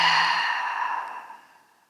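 A deep, slow exhale during a calming full-moon yoga session, one long breathy sigh close up that starts full and gradually fades away over a couple of seconds.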